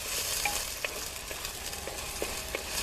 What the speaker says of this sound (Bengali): এরপরে আমি যে গুগলিটা রেখেছিলাম সেটা এখন কড়াইয়ের মধ্যে দিয়ে দিচ্ছি